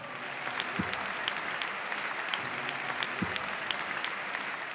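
Audience applause for a Martinican flutist at a Creole Christmas concert in Avignon, a steady wash of clapping throughout, moderately distant, with no voices over it.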